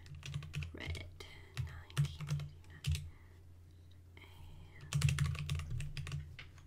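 Close computer keyboard typing in quick bursts of key clicks separated by short pauses, as text is entered into a file.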